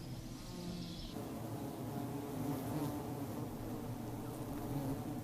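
A steady, low buzzing drone of many honeybees fills the clip, continuous and fairly quiet, with no voices.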